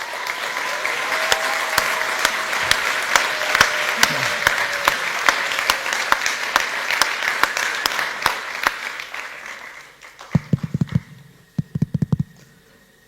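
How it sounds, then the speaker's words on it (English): Audience applause for Gurudev at a sports ethics and leadership summit in Basel: a full, steady round of clapping fills the hall for about ten seconds, then fades to a few scattered claps and microphone handling. "Big round of applause"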